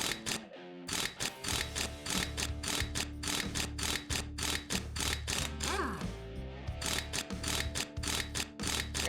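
Rapid ratcheting clicks of a tool tightening bolts on a tank in Tank Mechanic Simulator, steady mechanical rhythm repeating close and loud, with a brief pause partway through.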